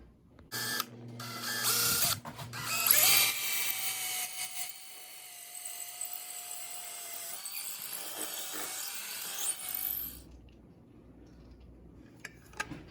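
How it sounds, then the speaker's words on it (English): A power drill with a masonry bit grinds loudly into concrete in rough bursts, then settles into a steady high-pitched whine that runs for several seconds before cutting off. "I'm gonna go ahead and use my concrete drill bit now."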